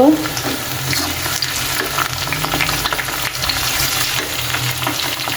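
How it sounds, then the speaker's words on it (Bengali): Steady, close sizzle of onion frying in a wok fills the whole clip, a dense crackling hiss with occasional soft stirring scrapes. "আর ভাজির জন্য পেঁয়াজ কড়াইতে দিয়ে দিচ্ছি"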